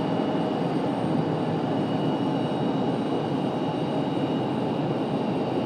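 A Sun Country airliner in a bright livery rumbles steadily at Raleigh-Durham airport at night, a broad continuous engine roar with a faint high whine, loud and constant with no talking.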